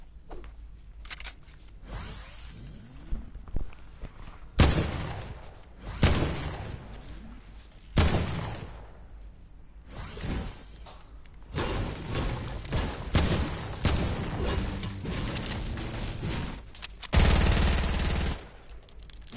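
Bursts of AK rifle fire in a video game rattle out in loud automatic volleys and single heavy shots, separated by quieter stretches with occasional faint talk.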